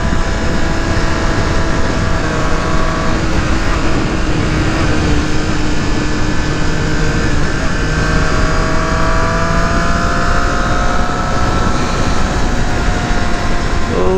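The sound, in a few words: Triumph Street Triple RS motorcycle riding on road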